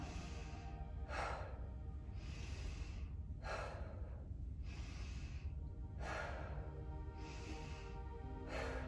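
Slow rhythmic breaths during a guided breathing exercise, each inhale and exhale arriving as a soft airy burst about every one to two seconds, repeated steadily with no talking over a low hum.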